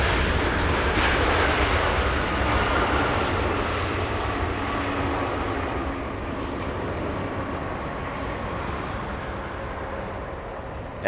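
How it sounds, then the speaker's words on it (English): Delta Boeing 767 jetliner inbound from Honolulu on landing approach at Los Angeles International Airport, a loud, steady broadband jet roar that holds throughout and eases slightly toward the end. "Big 767 coming in."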